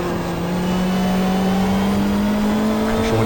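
A BMW touring car in the racing game GTR2 at Mallala in the Australian Super Touring Championship, its engine holding a loud, steady high-revving drone with a slowly rising pitch, no voices.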